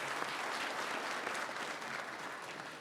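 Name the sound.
audience applause for award winners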